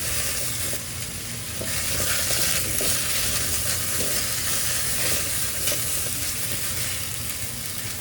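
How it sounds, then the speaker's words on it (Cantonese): Garlic and vegetables are stir-fried in a deep Instant Pot pot for a red wine oxtail stew, making a continuous loud sizzle with stirring scrapes throughout and no talk. "咁而家就將所有嘢兜勻去炒勻佢。"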